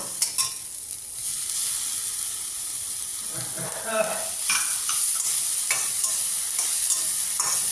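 Green chillies and capsicum stir-fry in a hot pan as momo stuffing is cooked, with a constant bright sizzle and hiss and repeated scraping, clattering stirs building toward the end.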